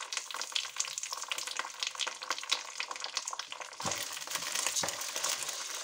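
Lentils frying in oil in a pan, a steady close crackling sizzle with faint stirring and scraping, no talking.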